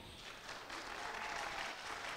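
A short burst of crowd clapping for Liceo Atenea at a youth singing festival, fairly faint and distant, a steady hiss-like patter of many hands lasting about two seconds.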